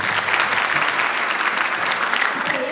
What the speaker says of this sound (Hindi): चलिए तालियों की गूंज के साथ इस सफर की शुरुआत करते हैं